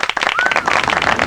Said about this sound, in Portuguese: A gente tem outras palmas aqui pros 4 anos, ó.